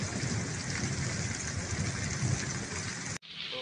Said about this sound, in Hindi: बाहर बारिश है, बहुत तेज़ हो रही है